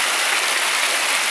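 Laurel Creek along the Appalachian Trail rushes by close at hand, a dense, steady broadband wash of flowing water with no voices.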